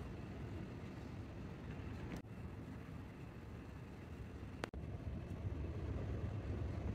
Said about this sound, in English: That's a gust. That is a gust.